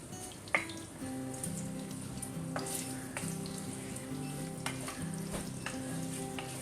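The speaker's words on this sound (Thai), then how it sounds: "เจียวมัน หมูอยู่ค่ะ" Pork fat sizzling and frying in a hot pan while making crispy pork cracklings for stir-fried jute leaves, a steady close crackle and hiss with occasional sharp pops and utensil clinks, no talking.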